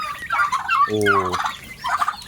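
Pet turkeys gobble loudly in quick rattling bursts, with one deeper, steady honking note cutting through the middle of the chorus, close by and with no voices.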